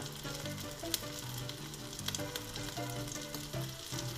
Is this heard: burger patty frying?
yes